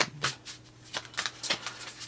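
Tarot cards being shuffled by hand, a run of quick papery riffles and soft slaps in an uneven rhythm, close and clear with no talking.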